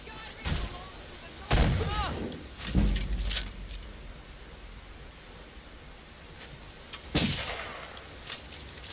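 Cannon fire in a pirate video game: several heavy booming blasts spaced irregularly over a constant background roar, mixed with bursts of speech.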